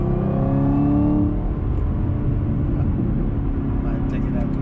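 A 2021 Chevrolet Camaro ZL1 1LE revs loudly from inside the cabin with the windows up, a deep rising engine roar that eases back and holds a steady rumble while a voice is faintly present.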